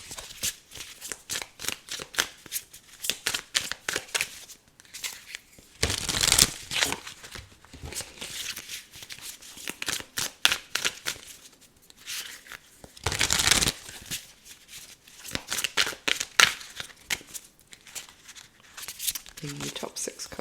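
A deck of tarot cards is shuffled repeatedly close up, rapid riffling flutters and soft slaps in bursts with a few louder, denser riffles, while a voice talks throughout.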